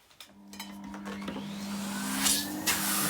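A 1988 Numatic Charles CVC375 vacuum cleaner in cream and brown starts up, its motor whine rising in pitch and loudness to a steady close drone, with a few handling knocks at the start.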